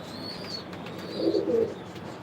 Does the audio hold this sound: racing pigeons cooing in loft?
yes